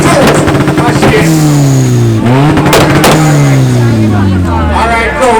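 A Mitsubishi car at an outdoor car show in Buff Bay, Portland is revved hard, its engine note repeatedly climbing and dropping, loud and near, with crowd voices and shouting mixed in.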